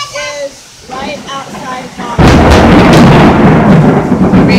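Thunder in the middle of a heavy storm, a sudden loud rumbling roar that swells and sustains near, following people talking over quieter rain.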